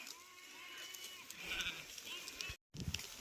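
Several sheep bleat at a moderate distance over a steady outdoor background at night on a sheep farm, with calls overlapping and a brief dropout near the end.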